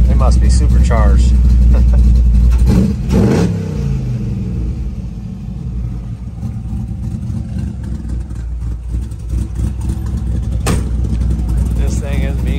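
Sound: 1963 restomod Chevrolet Impala engine rumbling

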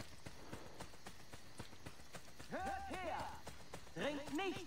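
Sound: horse galloping in video game Assassin's Creed Brotherhood

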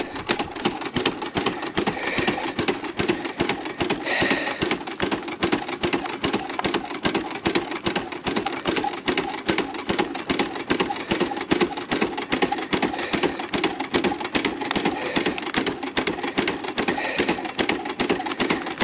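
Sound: Keene Engineering dry washer running

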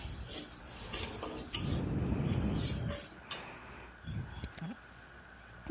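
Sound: sautéing jackfruit spices with coriander and cumin powder in pan

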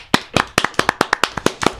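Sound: people clapping for themselves

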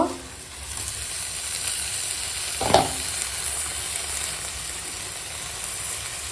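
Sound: young spinach added to a pan, frying and stirring

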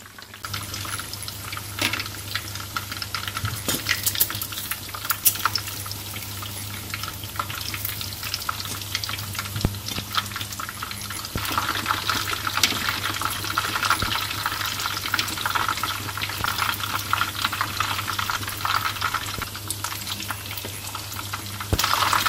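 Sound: fish cakes frying in oil

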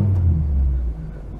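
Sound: Austin 1300GT car driving

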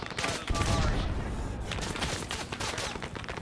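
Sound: gunfire in Arma 3 video game

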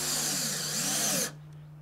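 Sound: power drill driving screws into wooden stair treads

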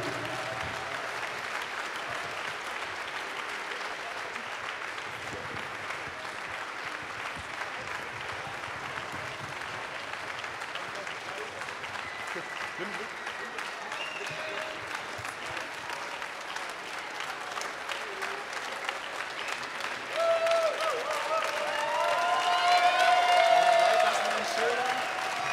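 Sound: audience applause for event organizers on stage

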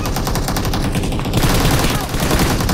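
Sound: gunfire in the video game BGMI

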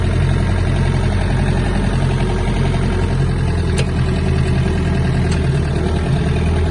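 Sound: Mitsubishi MT-26 Japanese mini tractor engine while driving

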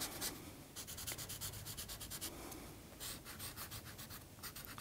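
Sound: rubbing in pastel chalk on paper

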